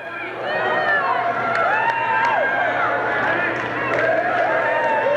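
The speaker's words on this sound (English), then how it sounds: "Crowd over here singing that goodbye song" High school girls' basketball crowd in a gym singing a goodbye chant together, steady and continuous with many blended voices and some cheering, while a commentator talks over it.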